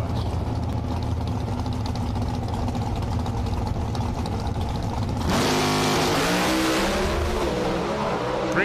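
NHRA drag racing cars launch down the strip at the 2018 Southern Nationals, a continuous loud engine roar that swells into a sharper, harsher howl partway through as the cars accelerate away.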